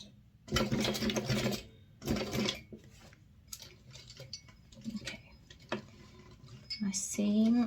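A sewing machine stitches the seam of a minimalist wallet in short, loud bursts of rapid close mechanical ticking, then slows to a hand-cranked pace over a thick section, with a voice speaking softly in between.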